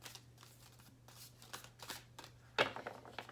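Deck of playing cards being shuffled by hand, a run of soft riffling bursts and light flicks at close range, with a steady low hum underneath and no talking.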